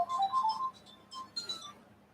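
A telephone rings for a radio call-in, a short bright electronic ringtone in two quick bursts, fairly close and clear over a quiet background.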